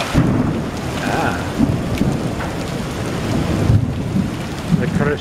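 A severe June storm with heavy rain and hail, heard from a garage: dense, loud rainfall roars throughout while low rumbles of distant thunder swell and fade beneath it.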